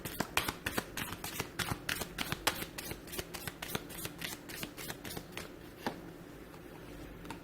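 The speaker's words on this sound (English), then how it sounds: "shall we give the angel cards a shuffle" A deck of angel cards is shuffled by hand in quick, rhythmic riffling strokes, a steady series of crisp papery flicks close by in a quiet room.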